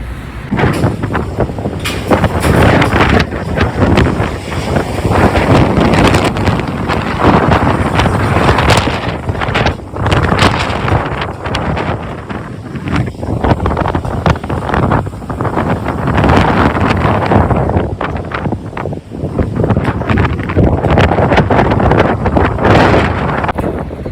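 Strong wind roars and buffets the microphone in continuous loud gusts on a windy day in London, with no voices heard.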